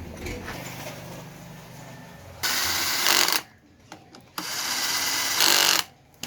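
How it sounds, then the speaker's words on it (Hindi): Workshop tools are fitting an oil pump into a new motorcycle engine, with two long bursts of loud, close whirring like a power driver, separated by quieter clinks and handling sounds over a low background hum. "ये आप देख सकते हैं ऑयल पंप लगाया जा रहा है।"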